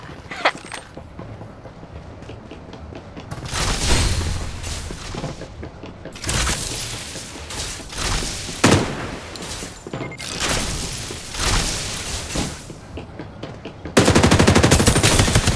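Rapid automatic gunfire from the battle royale game Farlight 84, loud bursts firing in several long stretches with brief gaps, ending in a dense, sustained volley.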